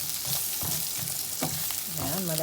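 Onions sautéing in a hot pan for a Filipino ginisa with tomatoes, a steady loud sizzle broken by a few spatula stirs; background voices blend in near the end.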